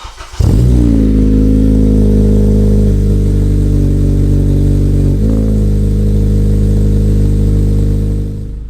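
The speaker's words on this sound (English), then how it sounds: "So here goes the first cold start after it's been retuned using the Honda Flash Pro." A 9th-generation Honda Civic, retuned with a Flash Pro and fitted with a full 3-inch downpipe and exhaust, cold-starts with a quick crank and catch, then settles into a loud, steady, high fast idle with one brief flare partway through.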